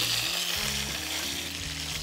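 Oil sizzling and spattering in a pan while frying vegetables, a dense close hiss with a low steady hum underneath, brief and fairly quiet, no voices.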